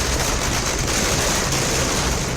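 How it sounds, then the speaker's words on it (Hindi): Firecrackers go off at a street celebration of election results, with workers dancing to dhol and nagada drums; a continuous, loud crackling barrage of rapid bangs runs throughout. "इसके साथ ही आतिशबाजी की जा रही है।"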